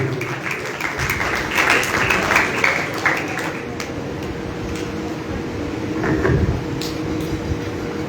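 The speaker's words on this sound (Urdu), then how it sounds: "ریورنڈ فادر آصف سردار کو اظہار پیار کے لیے آپ کی بھرپور تالیوں میں بلانا چاہتا ہوں" An audience at a church gathering for priests applauds in a sustained, even wash of clapping, with some louder swells and a few sharp knocks, heard alone without talk.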